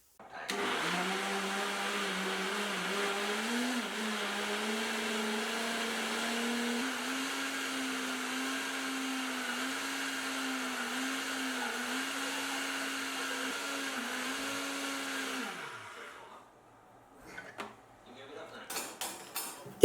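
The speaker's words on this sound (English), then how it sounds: "I was happy with what my blender did. It blended it really well" A blender purees tomato pasta sauce with a loud, steady whirring motor for about fifteen seconds, then winds down and stops, followed by some faint clattering.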